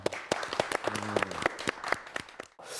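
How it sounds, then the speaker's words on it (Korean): Scattered applause from a lecture audience after a question on printing technology, distinct individual claps in an uneven rhythm, fairly quiet, with a brief voice partway through. "박수 한번 부탁드릴게요."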